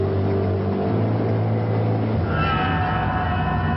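A 1950s Ford Mercury, fitted with a hidden exhaust pipe, drives along Manhattan streets with a steady, muffled engine drone and a continuous low rumble, its pitch shifting slightly partway through, with no voices.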